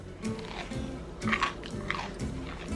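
Crusty German beer bread, buttery on the outside, being bitten and chewed up close, with a couple of louder crunches between steady soft mastication.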